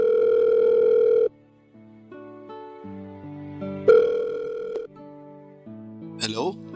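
A telephone tone during a call, a sustained loud tone that stops, then softer shifting tones and another burst, with a brief higher chirp near the end.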